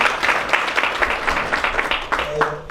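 Audience applause at a community forum in Kiambu, Kenya, a dense steady patter of many hands clapping close by, running without a break for a few seconds with a faint voice near the end.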